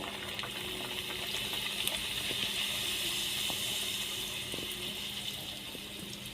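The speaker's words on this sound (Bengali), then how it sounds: "তেলটা গরম হয়ে গেছে এবারে আমি এটার মধ্যে লুচিটা দিয়ে দিচ্ছি" Luchi frying in hot oil in a small wok, a steady soft hiss and bubble running evenly throughout, faint and unbroken, with occasional light clicks.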